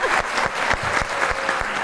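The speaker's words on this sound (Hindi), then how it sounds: "एक बार मियाँ वाली के लोगों के लिए तालियां होनी चाहिए" Loud, close applause from a studio audience during a podcast interview, with sharp individual claps standing out over a dense crowd clap. It stays energetic for under two seconds.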